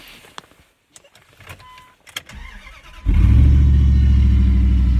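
A car engine cranks and catches after a few seconds of scattered clicks and small handling noises, then settles into a loud, steady idle through an exhaust that is cut off underneath.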